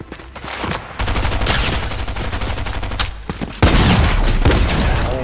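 Rapid automatic gunfire from the video game Fortnite, loud bursts of rattling shots that start after a quiet second, pause briefly, then resume with a heavier burst near the end, no talking.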